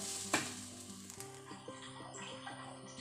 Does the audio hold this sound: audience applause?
no